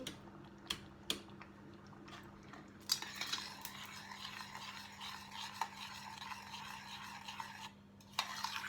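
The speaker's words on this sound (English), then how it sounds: "Stir it in, make sure everything is incorporated." A spoon scrapes and stirs homemade pizza sauce in a pot, a few sharp clinks at first, then a steady, close swishing stir for several seconds before it pauses and resumes.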